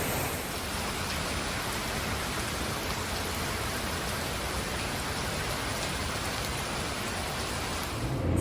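Steady rain pours outdoors in Kuala Lumpur, a dense, unbroken hiss that stays loud and close for the whole stretch, with no voices.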